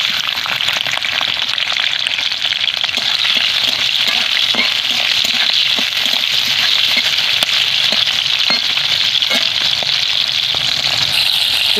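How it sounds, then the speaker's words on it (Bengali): Salted prawns fry in hot mustard oil in a wok, giving a loud, steady sizzle with crackling pops throughout and no talk. "সেখানে নুন মাখিয়ে রাখা চিংড়ি মাছগুলো ভেজে নেব।"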